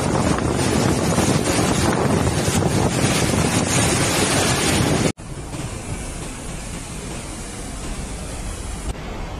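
Typhoon Krathon lashing Taiwan with extreme winds and heavy rain, a loud continuous roar of wind buffeting the microphone and surging surf, cutting abruptly to a slightly quieter but still relentless storm roar.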